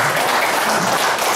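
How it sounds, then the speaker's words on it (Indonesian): An audience breaks into a brief, dense burst of applause at a communication training session, many hands clapping loudly together for a moment. "Berikan tepuk tangan buat Ibu Keminum."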